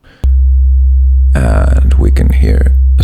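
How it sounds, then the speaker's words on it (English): A modular synthesizer oscillator patched to the main output plays a basic sine wave, a steady, loud, low pure tone that switches on abruptly and holds while a person talks over it. "let's make our first connection, which is a basic sine wave to our main output"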